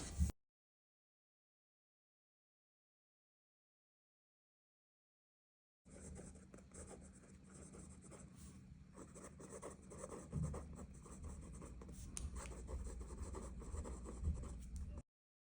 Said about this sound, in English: So let's do a writing sample real quick. So this pen has a soft, fine 14K gold nib.